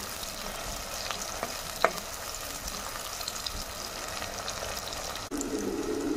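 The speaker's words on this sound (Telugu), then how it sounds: "ఉల్లిపాయలు దోరగా ఫ్రై చేసుకోవాలి" Onions frying in oil until golden, a steady broadband sizzle with occasional stirring scrapes and a brief clink, continuous and fairly close with no talk.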